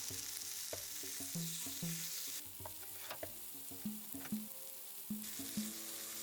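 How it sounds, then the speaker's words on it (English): Lamb chops searing in butter in a cast iron skillet, a fairly quiet background sizzle broken by repeated clinks and scrapes of a utensil against the pan, heard close with no voices. "I have a cast iron skillet here, put in some butter and then the lamb chops."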